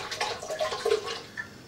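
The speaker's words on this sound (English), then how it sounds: "we're going to add that with some spring water right here. It's all going to go in the Vitamix" Spring water is poured into a Vitamix blender container, a brief soft gurgling trickle with small bubbling plinks, close and quiet.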